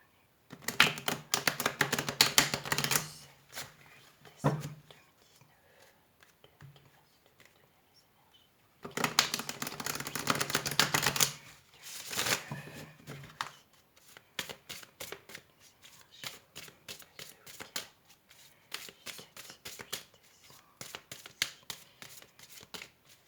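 Oracle cards are shuffled in long riffling bursts: a dense rustling stretch, a pause, another long bout, then scattered lighter flicks and snaps of card edges, close and clear with no talking over them.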